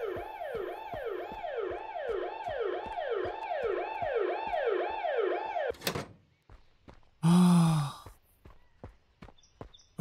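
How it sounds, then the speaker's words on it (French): A wailing siren in the zombie survival game Zompiercer rises and falls in a fast, regular cycle for several seconds, then cuts off, leaving scattered clicks, footsteps and a short loud burst of noise. "on va regarder si je peux arrêter cette sirène"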